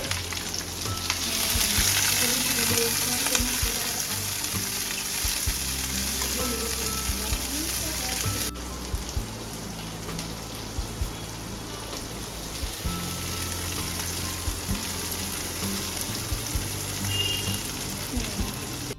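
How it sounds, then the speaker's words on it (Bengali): Capsicum fries in hot mustard oil over a low gas flame, a continuous close crackling sizzle with occasional stirring scrapes that runs steadily throughout. "তেলটা গরম হয়ে গেছে, আমি ক্যাপসিকামটা হালকা করে একটু ভেজে নেব।"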